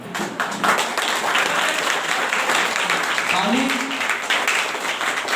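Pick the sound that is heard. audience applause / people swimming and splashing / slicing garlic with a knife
audience applause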